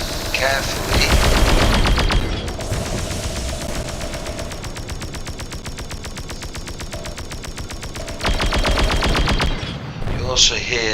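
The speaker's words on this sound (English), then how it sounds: "you also hear the sounds of my turrets hitting" Space-combat turrets in DarkStar One firing in a long rapid rhythmic stream, steady machine-gun-like pulses with louder bursts at the start and near the end over a droning engine bed.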